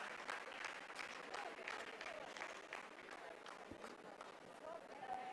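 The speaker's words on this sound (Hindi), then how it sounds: "आप इस तालियों के गड़गड़ाहट को सुन सकते हैं" Scientists applaud in a control room after a Chandrayaan-3 landing phase, dense clapping rolling steadily and faintly in the background beneath a commentator's voice.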